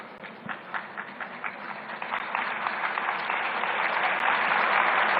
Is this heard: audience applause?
yes